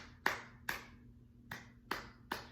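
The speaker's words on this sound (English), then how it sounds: "Clap that a couple of times with me just so we remember" Five sharp hand claps land close by in an uneven rhythm pattern against a faint steady hum.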